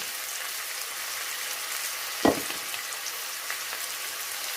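Garlic, ginger and green chilies frying in a pan over a medium flame, giving a steady, soft hiss with one brief louder pop, and no talking.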